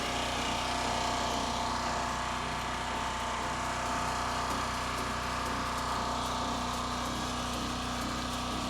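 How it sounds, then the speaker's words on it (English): A steady, loud hiss of spray aimed inside a car's wheel wells during a detailing wash, continuous and unbroken with a faint mechanical drone beneath, no voices. "spray the inside of my wheel wells"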